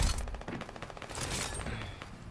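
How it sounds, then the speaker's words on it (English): Rapid gunfire from players shooting at a shark in the video game Fortnite, a dense stream of overlapping shots at steady loudness with no talk over it. "Oh, they're shooting at the shark."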